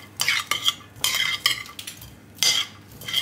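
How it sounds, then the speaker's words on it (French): A spoon scrapes and clinks against a bowl while tuna filling with capers and onions is mixed for bricks, in uneven bursts of close stirring with brief pauses between. "en attendant, moi je vais mélanger"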